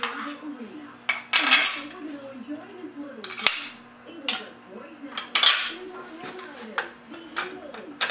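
Metal LS engine accessory-drive parts, bolts and spacers for front aluminum brackets, clink and rattle in repeated bursts close by, with bird calls sounding steadily in the background.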